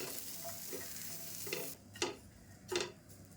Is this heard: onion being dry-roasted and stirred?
yes